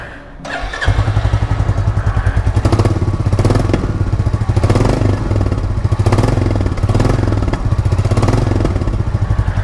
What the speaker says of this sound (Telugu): అండ్ దీని ఎగ్జాస్ట్ నోట్ కూడా ఇందాం.